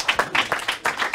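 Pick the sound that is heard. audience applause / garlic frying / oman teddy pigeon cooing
audience applause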